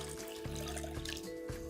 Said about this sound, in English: I also have some vegetable stock. All right, just gonna pour this in there.